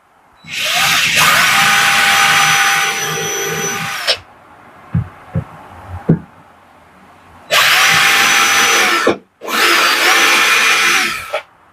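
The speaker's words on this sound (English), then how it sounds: "We're going to drill some holes for pilots just into the frame." A loud power drill whirs in three long bursts, drilling pilot holes into a church window frame, spinning up and winding down, with a few sharp knocks and handling clatter in the pause between.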